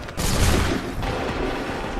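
Massed musket volleys crack out in the video game Assassin's Creed III, a dense, loud burst of overlapping shots that rolls into sustained rumbling gunfire for the full two seconds, with no clean gap between reports.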